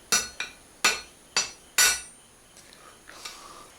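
A hammer strikes a forged bill hook to knock out a small kink, giving five sharp, ringing metallic blows in quick succession, followed by a few fainter taps.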